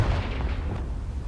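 In the Hogwarts Legacy video game, a Confringo spell blast goes off as a deep, booming explosion that rumbles close and loud, then fades into a lingering low roar.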